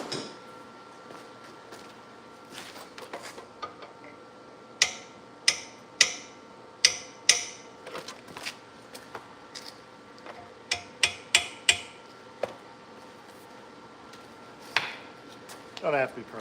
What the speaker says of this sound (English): I'm going to grab a hammer and tap on that quick.